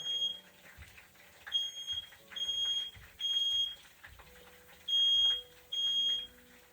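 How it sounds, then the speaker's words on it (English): A home smoke alarm sounds repeated shrill electronic beeps in an irregular series over faint kitchen background noise, fairly close. "Alarm is always going off."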